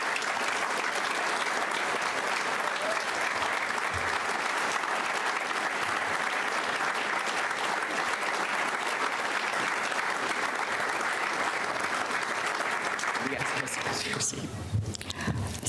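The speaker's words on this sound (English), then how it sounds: "Let's give another round of applause to this year's impressive class." Sustained applause from a large audience at a scholarship leadership breakfast, dense and steady for about fourteen seconds, then tapering off at the end.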